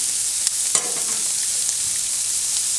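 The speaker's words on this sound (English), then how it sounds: "Get them around in that bacon grease up there." Meat pieces sizzling steadily in hot bacon grease as they are stirred around the pan for a three-meat chili, a constant close frying hiss broken by a few sharp scrapes of the spoon.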